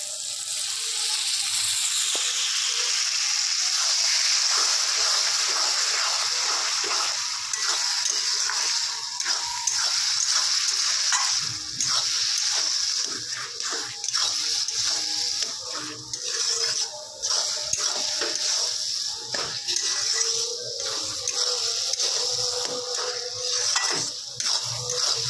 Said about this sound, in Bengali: অল্প করে জল দিয়ে দিচ্ছি মশলাটাকে ভালো করে কষে নেবার জন্যে।